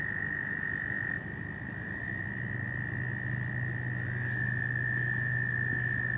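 Frogs croak in a continuous outdoor chorus in wilderness coves, a steady high trill layered over lower pulsing calls, with crickets and birds, and no voices.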